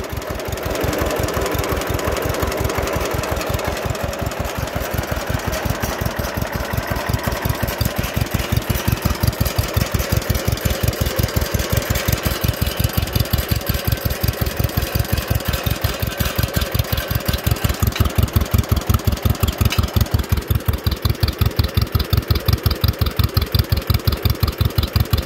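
An old two-cylinder John Deere tractor engine idles steadily and loudly with a rapid, even knocking beat that stays constant throughout, with no voices.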